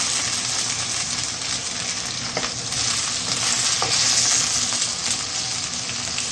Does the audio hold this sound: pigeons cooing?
no